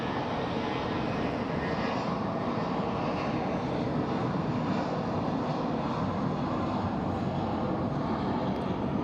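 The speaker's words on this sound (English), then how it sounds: "our Honolulu Dreamliner is on the move" A Boeing 787 Dreamliner bound for Honolulu taxis at Phoenix Sky Harbor Airport, its engines holding a continuous, even roar at moderate distance with no breaks or pauses.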